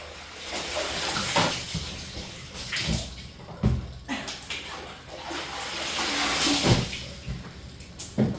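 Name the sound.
rinsing clothes by hand in water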